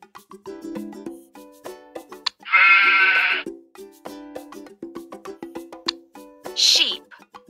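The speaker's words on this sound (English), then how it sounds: "Sheep." A sheep bleats once, a loud wavering cry, followed later by a brief second bleat amid quieter voices and soft background sounds.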